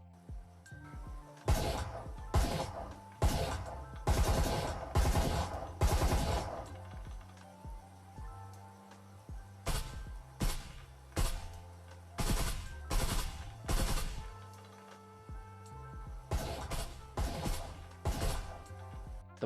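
The Vezin gun firing in the Breacher VR game, repeated short bursts of fairly loud shots in clusters separated by brief pauses, with an even rhythm throughout.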